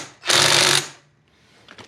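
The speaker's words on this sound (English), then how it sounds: "only going to torque them down really quick with the electric impact gun" An electric impact gun tightens bolts on a Honda ADV 150 scooter during a performance variator install, giving one loud buzzing, rattling burst of about half a second, then quiet with faint clicks.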